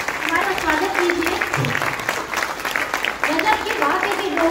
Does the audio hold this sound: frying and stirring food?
no